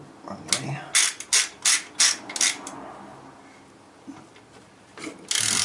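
A ratchet tightens the transmission nut on a 1968 MGC, giving about six quick, rhythmic bursts of metallic clicking up close, then a pause with light handling noises before a final burst.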